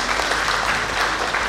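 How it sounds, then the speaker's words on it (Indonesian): An audience claps at a regional language ambassador pageant, applauding the twenty finalists: a brief, dense wash of steady applause at moderate loudness with no voices over it. "Tepuk tangan yang meriah dulu untuk 20 orang terbaik."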